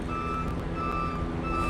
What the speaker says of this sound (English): What you're hearing is the garbage trucks that are starting to enter into the park.